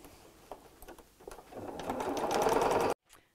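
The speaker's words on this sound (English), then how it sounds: "I'll get on with sewing these" A sewing machine stitches a fabric storage cube, starting with a few slow stitches, then speeding into a steady fast whirr before stopping abruptly, close and alone.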